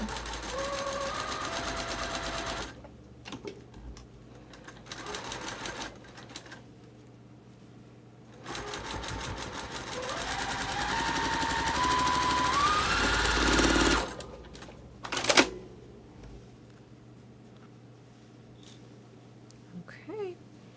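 A sewing machine stitches quilt patches into a pinwheel unit for a sawtooth star sampler block, running in several sustained bursts with pauses between them and some quiet talk in places.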